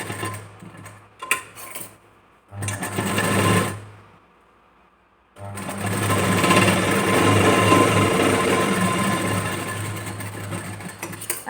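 A sewing machine stitches a strip onto a blouse (34-inch chest, four tucks): several short bursts of stitching, a pause, another run, then a long steady run to the end, with no talk.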